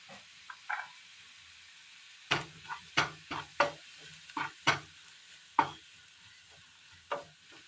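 A spoon scrapes and knocks as it stirs chili, coriander and turmeric powders into a mango curry in a pan. Sharp, irregular strokes come close and clear over a faint sizzle.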